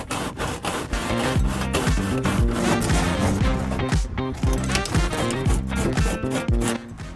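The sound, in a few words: sanding wood with 40 grit sandpaper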